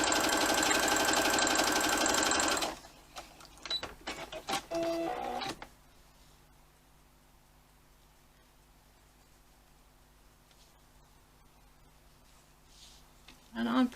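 A sewing machine stitches quilting strips together with a scant quarter-inch seam, running loud and steady for about two and a half seconds, then stopping and starting in a few short bursts before a long quiet stretch.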